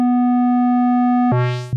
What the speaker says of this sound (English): make the second LFO modify the frequency of the first LFO